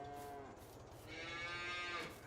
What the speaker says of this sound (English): we do have some new calves in here